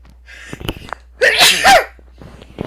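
A single sharp human sneeze, preceded by a quick intake of breath, loud and close in a quiet room during a tabletop role-playing game session.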